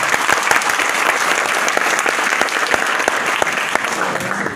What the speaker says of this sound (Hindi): चलो एक बार सर के लिए जोरदार तालियां।